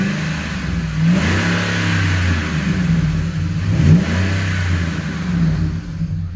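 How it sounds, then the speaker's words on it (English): A 2010 Ford F-150 Lariat with an aftermarket exhaust idles with a deep rumble and is revved twice, each rev swelling then dropping back, heard up close. "Give it a rev."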